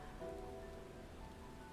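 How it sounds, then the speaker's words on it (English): Rain falling in the video game Final Fantasy XIV, a soft, steady hiss of rainfall with faint tonal game music underneath and no talking. "Of course it starts raining."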